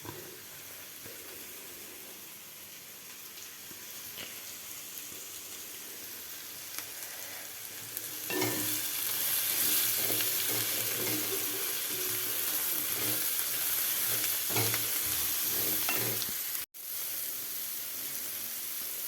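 A salted spice paste sizzles and hisses in a pan while a spoon stirs it; the frying grows louder partway through, then briefly cuts out near the end.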